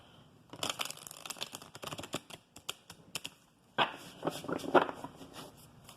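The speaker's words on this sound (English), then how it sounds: "let's draw some more tarot cards to see" Tarot cards being drawn and handled during a reading, giving a run of quick crisp card snaps, shuffles and taps up close, with a brief pause midway before more rustling flicks.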